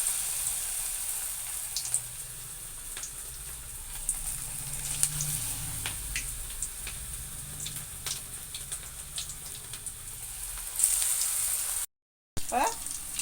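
Cabbage manchurian pieces sizzle and crackle steadily in hot oil for cabbage chilli, a continuous bright frying hiss with occasional louder pops and faint stirring, no talk.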